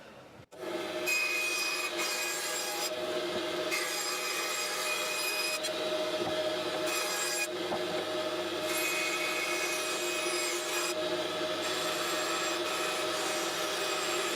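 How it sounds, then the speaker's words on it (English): A saw rasps steadily through wood for a long stretch, a continuous gritty cutting noise with small shifts in pitch and no talking. "now we've got the bandsaw set up, we will start putting the pieces out"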